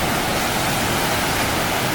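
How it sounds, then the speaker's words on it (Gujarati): Water surges hard through Danikut dam in a loud, close, unbroken roar of rushing flow. The hiss is steady and fills the whole moment, with no voices over it. "પાણી જોરદાર આવે છે"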